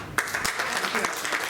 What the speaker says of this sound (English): give a big round of applause for Agnes